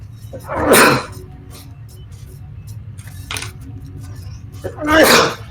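Two loud, close sneezes a few seconds apart over a low background hum, with a faint brief sound between them.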